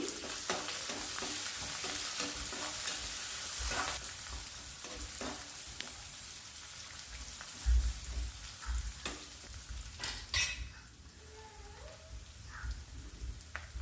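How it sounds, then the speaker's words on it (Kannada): Onion, green chillies and curry leaves fry in a pan for avalakki uppittu, giving a steady low sizzle with occasional stirring clatter and spoon knocks, close and moderately quiet with no talking. "4 ಮೆಣಸಿನ್ಕಾಯಿ, ಹಾಗೆ ಒಂದು ಮೀಡಿಯಮ್ ಸೈಜ್ದು ಈರುಳ್ಳಿ, ಕರಿಬೇವಿನ ಎಲೆ ಹಾಕ್ಕೊಂಡು ಇದನ್ನು ಕೂಡ ಹಸಿ ವಾಸನೆ ಹೋಗೋವರೆಗೂ ಫ್ರೈ ಮಾಡ್ಕೊತಾ ಇದ್ದೀನಿ"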